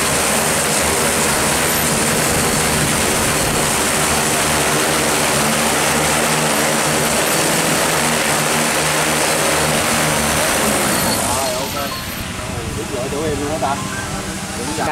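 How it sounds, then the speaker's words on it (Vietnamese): DJI agricultural drone with carbon-fibre propellers and body flying low over a rice field, a loud, steady whirring roar of spinning rotors that shifts and thins near the end as it comes down to land. "Cái con này là con Flycam ha, của hãng DJI."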